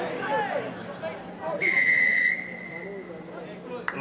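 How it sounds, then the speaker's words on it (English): A referee's whistle shrills at a schoolboy rugby match between De La Salle and Prairiewood, one sustained piercing blast of under a second over faint crowd chatter and murmuring voices, then the field noise carries on. "the whistle goes, the referee's seen something"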